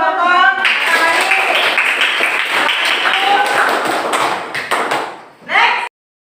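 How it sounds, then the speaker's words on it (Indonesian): Classroom applause for a student group after its presentation, a loud, close burst of many hands clapping that runs steadily for several seconds, then fades out with a brief final flurry. "Tepuk tangan untuk kelompok Matahari"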